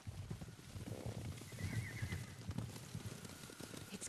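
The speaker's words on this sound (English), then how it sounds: "Horses, they're coming for us." Horses gallop in Ghost of Tsushima, with hoofbeats pounding at a rapid rhythm and a brief whinny, fairly quiet and heard alone without talk.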